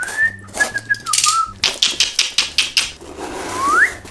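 Cardboard gift box sliced open with a utility cutter, a run of quick rhythmic scraping cuts and tearing of tape, with a sliding squeak near the end.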